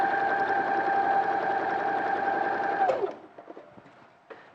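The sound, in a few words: sewing machine stitching fabric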